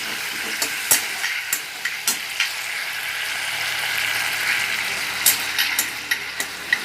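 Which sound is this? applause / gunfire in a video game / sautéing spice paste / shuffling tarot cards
sautéing spice paste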